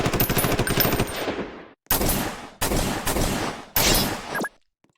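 A medium gunner in a combat video game fires in three or four sustained automatic bursts with short silent gaps, loud and close with sharp rapid reports and no talking.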